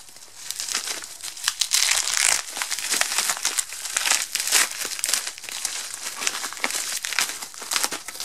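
Bubble wrap from a delivered package crinkles and crackles continuously up close, a busy, bright rustle with small pops and tearing bits, fairly loud and with no voices.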